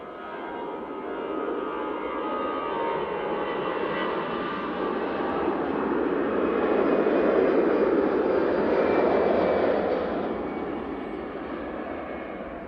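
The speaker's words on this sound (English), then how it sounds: "And it's the Aer Lingus A380 coming in." An Aer Lingus Airbus A380 on approach to Manchester Airport, a broad jet roar swelling to a peak and slowly fading, moderately distant with a faint engine whine.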